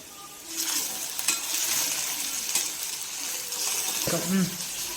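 Ginger garlic paste sizzling and frying in a pan on low heat, a steady close hiss with a few light metallic clinks of a spoon stirring.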